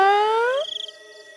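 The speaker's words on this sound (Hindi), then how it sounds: "म्याऊ म्याऊ म्याऊ।" A single close cat meow, loud and clear, falling and trailing off into a brief wavering tail.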